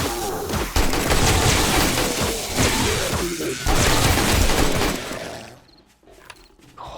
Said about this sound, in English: Oh, armor piercing ammo just rips right through them.